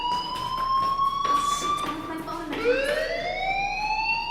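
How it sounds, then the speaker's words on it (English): A school fire alarm in the video game Life Is Strange sounds as a steady, loud electronic wail with a rising and falling pitch, continuous throughout under a muffled background. "do you hear that fire alarm? That means you should be outside."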